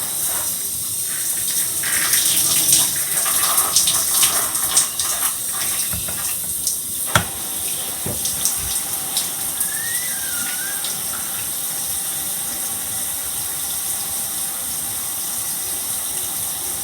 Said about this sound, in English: I'm gonna rinse my hair